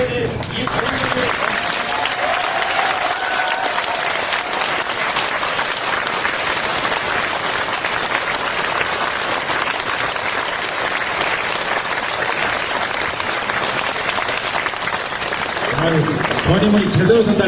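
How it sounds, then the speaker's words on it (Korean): Prolonged, loud applause from an audience at a school support agreement signing ceremony for an aircraft noise area, sustained clapping for many seconds that fades near the end as voices return. "여러분들 가장 큰 박수를 보내주셔야지 이 관심을"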